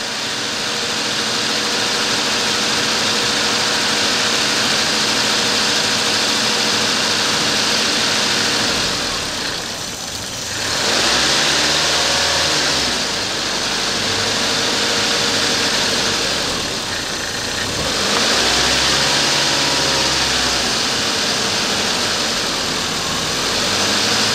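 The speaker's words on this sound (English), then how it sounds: "you need somebody to keep that gas pedal down between 1500 and 2000 RPMs" A Nissan 240SX engine is held at 1500-2000 RPM during a SeaFoam treatment, a loud steady drone with two rises in revs swelling and falling back, close up and without talk.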